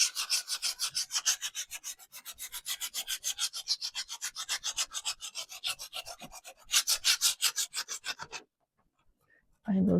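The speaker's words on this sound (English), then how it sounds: "Okay, so I'm going to go slowly as I'm sanding it." Hand sanding of a painted wooden farmhouse sign: a rapid series of rhythmic back-and-forth rasping strokes, close and fairly quiet, that stops abruptly near the end before a brief new noise.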